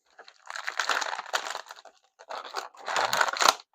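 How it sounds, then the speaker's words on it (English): Plastic toy packaging for a G.I. Joe Classified wet suit figure crinkles and tears in close, irregular bursts with a brief pause midway, fairly quiet and with no voices. "sorry for the crinkling noise"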